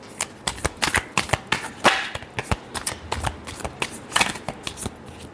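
A deck of tarot cards is shuffled by hand in quick, close bursts of flapping and riffling, about a dozen crisp slaps in a loose, steady rhythm.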